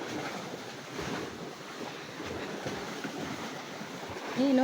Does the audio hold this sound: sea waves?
yes